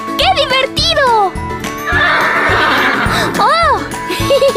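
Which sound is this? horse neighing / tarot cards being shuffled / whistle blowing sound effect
horse neighing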